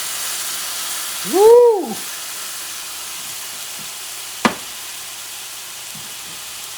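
Apple cider vinegar hits a hot 85-year-old Wagner cast iron pan with a steady, fairly loud hiss and sizzle; a voice whoops briefly near the start, and a single sharp click sounds midway.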